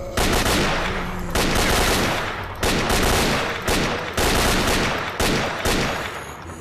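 Weapon fire in S.T.A.L.K.E.R.: Shadow of Chernobyl, deep in Laboratory X16: about six heavy shots land at a steady pace roughly a second apart, each loud blast trailing off in a short echoing decay.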